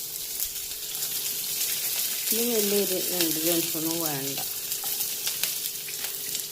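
Mustard seeds spluttering in hot oil, a dense crackling sizzle with sharp popping bursts, close and fairly loud, while someone talks over it in the middle.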